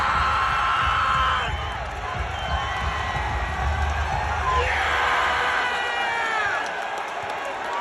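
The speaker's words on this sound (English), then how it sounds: "Fans would still cheer him on even if he was playing for the opposing team." Basketball crowd cheering for Derrick Rose in an arena, a sustained roar of whoops and yells from many fans that swells and holds across the whole stretch.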